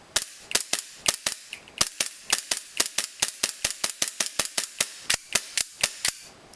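Marui G17 Glock airsoft pistol with a modified trigger firing a rapid string of sharp, close cracks, about two dozen shots in quick irregular succession, no talk.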